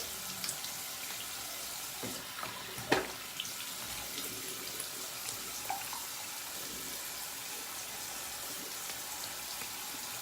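Tap water running steadily into a sink for a quick rinse while shaving, a faint continuous wash with small splashes and clinks, no talking.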